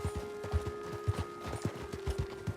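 A horse's hooves clip-clop in a steady quick rhythm in the video game Red Dead Redemption II, fairly close and faint, with a soft tonal hum underneath.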